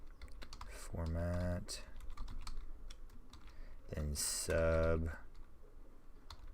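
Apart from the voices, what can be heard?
computer keyboard typing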